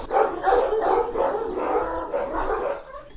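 Several Kangal shepherd dogs bark in quick, overlapping bursts, loud and fairly close, with a few higher yips mixed in.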